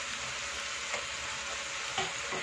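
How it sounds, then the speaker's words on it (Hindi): Vegetables and hakka noodles stir-frying in a hot pan with vinegar and black pepper, a steady close sizzle with two brief scraping stir accents, no voices. "इसको मैं अच्छे से मिक्स कर देती हूँ"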